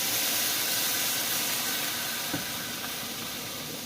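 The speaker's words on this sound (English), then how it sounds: "So you guys can hear my kettle." A kettle on the stove steaming hard, a loud continuous hiss that fills the whole stretch and fades slightly toward the end.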